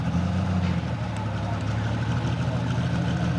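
A 4560 Super Stroke Edition pulling tractor at a 1995 Shepherdsville, Kentucky tractor pull, its engine giving a steady, loud low drone with a deep rumbling hum that holds even across the whole stretch.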